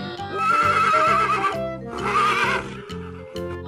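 A zebra neighs in two loud, drawn-out whinnies, close and clear, over a steady repeating musical beat.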